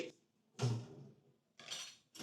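Three quick bursts of metal clattering as a small child knocks and moves small pots and pans about close by, with quiet pauses between.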